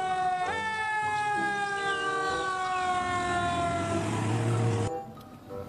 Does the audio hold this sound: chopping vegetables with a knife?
no